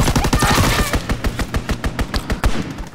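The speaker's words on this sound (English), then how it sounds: "The PPSH doesn't have the best recoil, let me say." Rapid bursts of PPSh submachine gun fire in a WW2 shooter game, loud and close, with dense repeating cracks that break into shorter stuttering volleys, over a faint game background.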